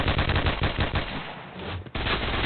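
Automatic rifle fire in the Point Blank online shooter game, a fast continuous rattle of shots, close and steady, with a brief gap near the end before firing resumes.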